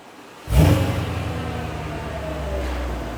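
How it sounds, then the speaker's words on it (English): A Mercedes E55 AMG wagon engine with a new exhaust on the factory muffler cranks on a cold start and catches with a sudden loud burst, then the exhaust settles into a deep, steady rumble at idle. "this is my first time hearing the new exhaust. Cold start."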